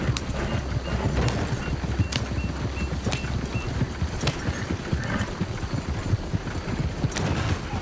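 Shire horse hooves clip-clopping at a brisk trot in Red Dead Redemption 2, a steady, close rhythm of hoofbeats over a background rumble, with no voices.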